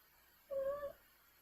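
A house cat gives a single short meow, clear and fairly close against a quiet room, lasting about half a second.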